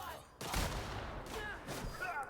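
Gunfire in the PC game The Outer Worlds: Spacer's Choice Edition, a couple of loud sharp shots with rumbling tails over game sound, with a voice speaking among them.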